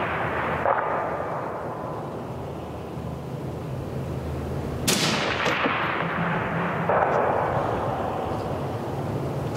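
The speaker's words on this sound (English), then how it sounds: "Three shots." A 7.62 rifle fitted with a B&T SRBS762-DM silencer fires outdoors, a few suppressed cracks with low booming echoes rolling across open ground, spaced several seconds apart.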